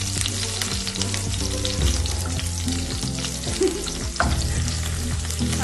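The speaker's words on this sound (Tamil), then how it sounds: "இதில் ஆனியன்ஸ் வந்து ஓவராக ஃப்ரை ஆகக்கூடாது." Chopped onions frying in hot oil for homemade mutter paneer, a steady close sizzle with stirring scrapes and clinks running throughout.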